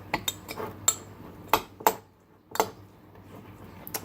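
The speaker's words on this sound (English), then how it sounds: "Give them a nice stir." Spoon stirring beans in a measuring cup, a series of sharp, close clinks and scrapes at an uneven rhythm with quiet gaps between, no talk.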